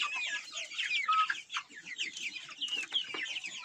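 Young Araucana chickens cluck and chirp busily close by, a dense run of overlapping high peeps and short clucks throughout with no talking.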